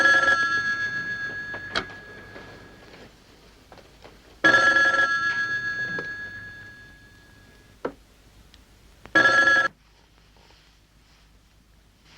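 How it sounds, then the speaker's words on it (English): An old telephone bell rings in three separate bursts with quiet gaps between them, the first two long and fading, the last short. "are you sure that number's ringing?"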